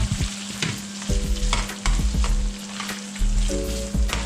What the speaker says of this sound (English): But I'm gonna go ahead and start adding the garlic. Give it a little toss. Let that cook down for a second or two.